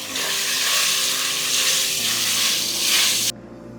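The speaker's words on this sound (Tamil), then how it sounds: "இப்போ இதையும் பச்சை வாசனை போகிற வரைக்கும் வதக்கிக்கலாம்" Ginger garlic paste and curry leaves sautéing in a pan for vegetable biryani, a loud close sizzle hissing steadily for about three seconds before cutting off abruptly.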